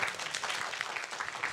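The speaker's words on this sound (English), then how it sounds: "Let's give a big applause to Professor Huang for his wonderful speech." Applause from a conference audience follows a professor's speech at an international symposium on holistic care and medical quality at a military general hospital, a steady wash of clapping filling the short stretch without voices.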